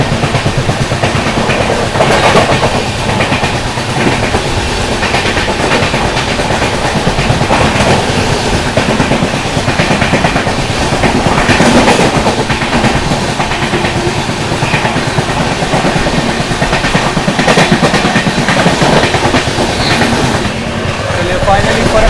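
Gorakhdham SF Express overtaking the Farakka Express at Aligarh Junction, heard from aboard the moving train: a steady, loud rumble with continuous rhythmic clickety-clack of wheels over rail joints throughout.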